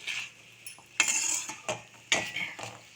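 A spoon scrapes and clinks against a pan while stirring a moong dal and snake gourd stir-fry, in several irregular bursts of close metallic scraping.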